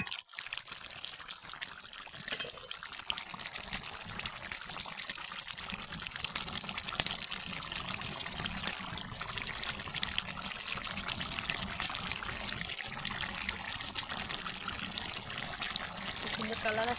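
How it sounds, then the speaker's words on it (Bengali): Water poured into a spicy country-chicken curry cooking on a village clay stove, a steady, moderately loud trickling and splashing that runs the whole time. "এখন আমি ঝোলের পানি দিয়ে দেবো"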